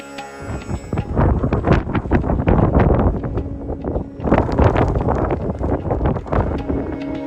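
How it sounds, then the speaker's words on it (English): Wind at Godafoss waterfall in Iceland buffets the microphone in loud, rumbling gusts, surging twice with a brief lull between, with no voices heard. "It's a windy place here"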